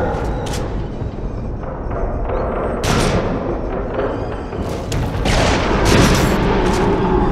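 Gunfire in the VR horror rail-shooter Rush of Blood on PS5, a string of loud sharp shots and booms at irregular intervals over a dense, rumbling background.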